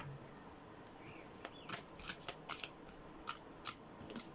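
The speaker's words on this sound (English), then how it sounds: "These cards are as big as my hand, so please be patient while I shuffle them up a little bit" Large oracle cards are shuffled by hand, giving a run of soft papery riffles and sharp snapping slaps, close and fairly quiet, in irregular bursts.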